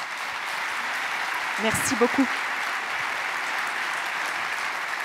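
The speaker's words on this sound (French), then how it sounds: "Je crois que vous pouvez l'applaudir" Audience applause after an interview with the director general of the Vendée Globe, a steady broadband clapping wash lasting throughout, with a brief spoken thank-you in French rising over it midway.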